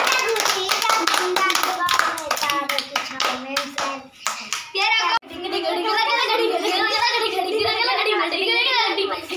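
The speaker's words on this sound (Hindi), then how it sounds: "अरे वाह ताली भाई ताली ताली" Village children clap their hands in quick bursts of many sharp slaps, with excited kids' voices and laughter mixed in, followed by lively chatter and shouting up close.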